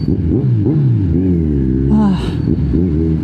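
A Kawasaki Z1000 R inline-four 1000cc motorcycle engine with a new exhaust revs up and down close by, its pitch climbing and falling in smooth sweeps with a deep, throaty tone.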